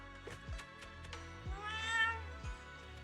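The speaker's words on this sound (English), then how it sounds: "a chubby orange cat waddles out from the corner of the room. It looks over, meows triumphantly" A chubby orange cat in the Zenless Zone Zero video game lets out a short meow, quiet and close, among soft game sounds.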